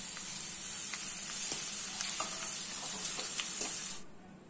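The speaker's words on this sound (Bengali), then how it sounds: "প্রথমে কিশমিশটা ভেজে তুলে নেব।" Raisins frying in hot oil in a wok, a soft steady sizzle with faint crackles and occasional light stirring clicks, fairly quiet and close, cutting off abruptly near the end.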